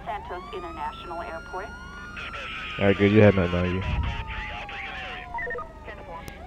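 A police car siren in GTA V wails, rising and falling beneath a man's speech, with a loud burst of crackly noise midway.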